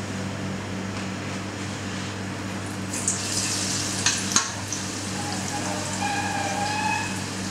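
Courgette tempura in batter fries in hot oil in a restaurant kitchen, giving a steady soft sizzle with a few louder crackles and clatters partway through, no voices.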